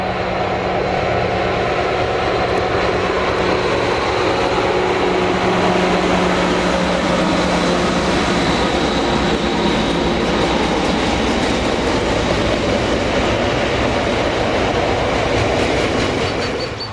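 British Rail Class 60 diesel locomotive 60019 hauling a rake of tank wagons past Sawley, a loud steady engine roar with continuous rumbling and clattering wheels throughout, no voices.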